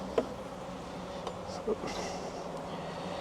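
Bees in a crowded beehive give a soft, continuous buzzing drone close by, with a few brief louder buzzes standing out.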